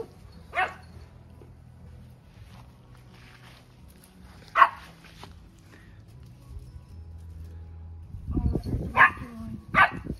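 A few sharp dog barks spaced apart, then a cluster of barks and yelps near the end, over low background rumble.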